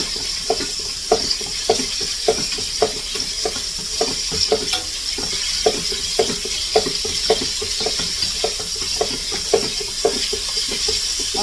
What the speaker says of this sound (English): So I'm going to give it a little stir